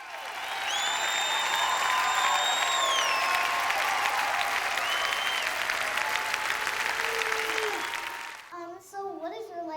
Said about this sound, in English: Everybody give Scarlett a round of applause